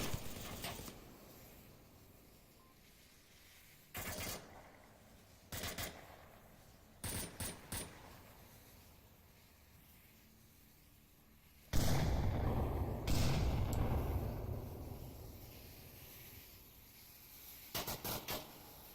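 Bursts of gunfire in the VR shooter Onward during a competitive match, sharp broadband volleys at irregular intervals, with a louder sustained burst near the middle and a few shorter bursts after, no talk.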